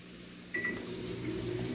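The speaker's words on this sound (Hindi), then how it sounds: "और स्टार्ट कर लेते हैं माइक्रोवेव को" A microwave oven starts up: a short electronic beep followed by a steady low hum as it begins running, close and fairly quiet.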